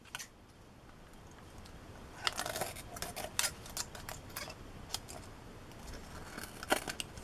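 Scissors snip through a solar garden light's reflector in a series of sharp, close clicking cuts, loud and irregular against a quiet background.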